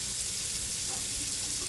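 Warm tap water runs into a container for making homemade bread dough, a short, steady hiss of flowing water heard close by with no voices.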